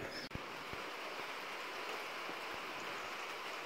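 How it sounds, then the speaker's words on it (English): Steady rain falls outside a garage where a 1971 Range Rover chassis is being aligned, a continuous wash of drops with no voices, plus one brief knock near the start. "It's raining."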